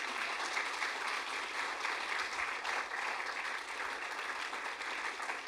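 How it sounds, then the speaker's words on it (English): A TEDx audience applauds, a dense, even wash of clapping that holds steady for several seconds at moderate level, heard alone without any voices. "Let's have another round of applause for Beth"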